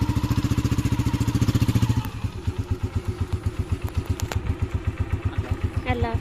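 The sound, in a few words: motorcycle engine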